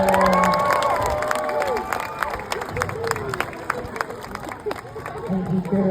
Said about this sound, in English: I want you to give him a really big cheer, loads of clapping, really.